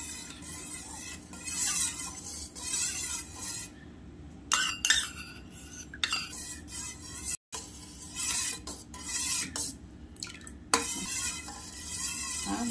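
Ghee added to sugar melting in a pan for a maida cake, stirred with a spoon: repeated scraping and clinking of utensil against the pan over a soft sizzle, close and steady with brief pauses.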